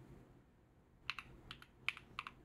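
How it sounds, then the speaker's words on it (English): Keystrokes on a computer keyboard as tags are typed into a content management field: a quiet lead-in, then a short burst of about eight crisp, close clicks in small irregular clusters, with no talking. "All we need to do is click in our tags field and start typing."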